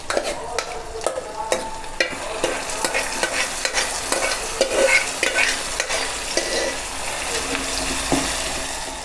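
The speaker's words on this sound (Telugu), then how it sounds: "ఇప్పుడు మనం ఎనిపి పెట్టుకున్న ఆకుకూర వేస్తున్నాను." Mixed leafy greens with coriander and curry leaves frying in a pan with no water, a steady sizzle broken by repeated scraping stirs and spatula knocks, close and fairly loud.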